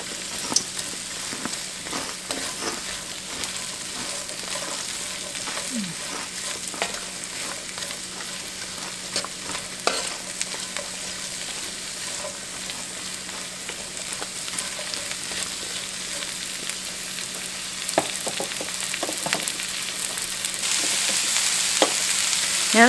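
Cabbage fries and sizzles steadily in a pan with fatback, a continuous close hiss with occasional soft scrapes and clicks, swelling slightly louder toward the end.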